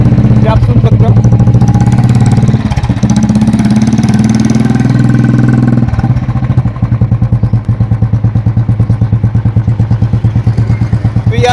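A modified Royal Enfield motorcycle fitted with an original Classic silencer idles loud and close, settling into a steady, rhythmic thumping exhaust beat.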